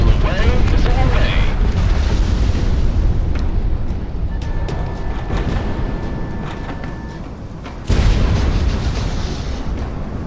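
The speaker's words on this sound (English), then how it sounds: "Missile away, missile away." Missile launches and heavy explosions in the aerial combat game Project Wingman, a loud, dense continuous roar of blasts with a fresh surge near the end; voices talk over the din.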